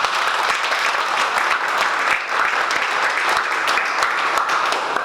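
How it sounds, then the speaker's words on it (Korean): A church congregation claps in praise to God, a loud, even burst of many hands that carries on steadily from start to finish without talk. "우리 하나님께 영광의 박수."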